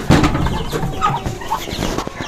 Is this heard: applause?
no